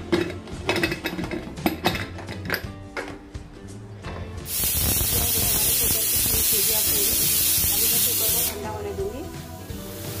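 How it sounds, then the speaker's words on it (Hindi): Pressure cooker on a gas stove in a home kitchen, cooking minced-meat koftas, lets out a loud, steady hissing steam whistle for several seconds after a stretch of clattering kitchen sounds. "अब मैं इसके ढक्कन लगा लूँगी कुकर का और इसके दो से तीन सीटियाँ लूँगी।"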